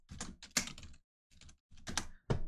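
Quick bursts of clicking keystrokes on a computer keyboard, close and crisp, with a short pause between clusters of typing.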